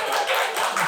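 Brief burst of audience clapping during a church sermon, a short, even patter of several hands.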